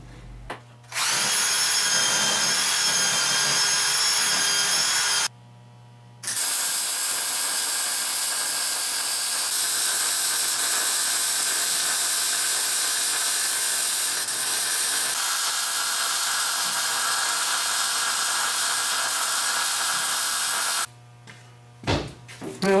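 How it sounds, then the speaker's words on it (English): A long continuous weld bead laid on the rear cross member of a Goofy Cart frame, a steady loud crackling buzz lasting over ten seconds with brief gaps between passes, close, no talk. "I need to put a bead of weld on our rear cross member"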